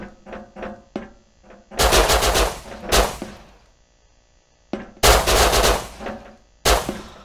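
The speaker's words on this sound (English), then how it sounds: "They're all shooting your barricade." Bursts of automatic gunfire in the survival game Rust, rapid rattling volleys of several shots each, loud and close, separated by single isolated shots and short gaps.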